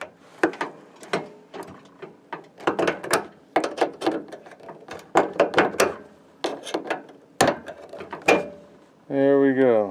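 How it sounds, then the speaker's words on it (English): Repeated sharp metallic clicks and rattles come as the door hinge pin is wiggled and pulled out of a Whirlpool microwave oven during a teardown, close and irregular, with a brief voice at the end. "let's pull out this pin that holds the door in"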